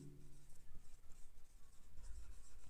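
Chalk or marker writes on a classroom board in a physics lesson, producing faint, quick scratchy strokes and taps in a short burst, with a low room hum behind.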